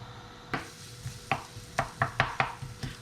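Sliced leeks cooking down in a pan with oil, a soft continuous sizzle under a series of sharp clicks and scrapes from stirring with a utensil against the pan, close and fairly quiet.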